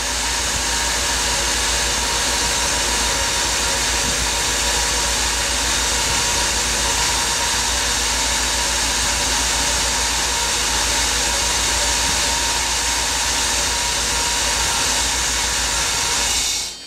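A Mercedes V8 with KE-Jetronic fuel injection, as fitted to W126, R107 and C126 models, runs steadily after starting, giving a loud, unbroken roar and hiss with no talk, then cutting off abruptly at the end.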